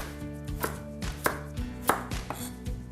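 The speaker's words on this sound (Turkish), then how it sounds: "Havucu da bu şekilde biraz iri doğruyorum." A knife chops a carrot coarsely on a cutting board, giving a steady series of sharp, close thuds roughly every third of a second, with no talking.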